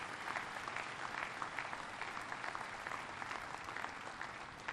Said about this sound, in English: let's give these great builders a round of applause